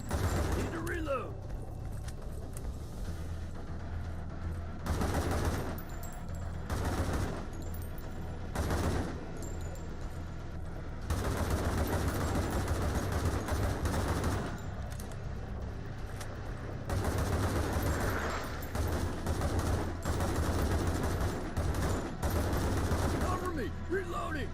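Gunfire in a shooter video game: bursts of automatic shots recurring in clusters at moderate level, with mechanical clatter, and players talking in between.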